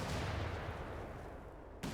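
A heavy gun blast in the video game Company of Heroes 3 booms and rumbles away, followed by a second sharp shot at the very end.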